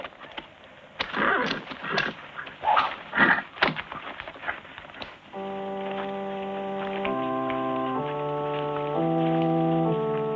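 Horse hooves clopping in an old western film, a few irregular, fairly close hoofbeats over several seconds before orchestral music takes over.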